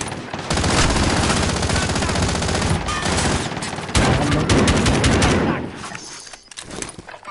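Sustained rapid gunfire in a PS4 shooter, dense automatic bursts rattling loudly and continuously before tapering off near the end, with player voices faintly underneath.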